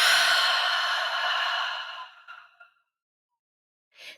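A long, deep exhalation during guided breathing trails off over about two seconds, followed by silence and then a brief soft breath near the end.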